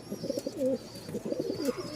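Pigeons coo close by in two soft, rolling phrases, quiet and clear with no talking.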